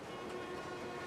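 Steady low rumble of a train rolling along in the Spider-Man 2 video game, a continuous mechanical drone with no clear beats, heard alone without talk.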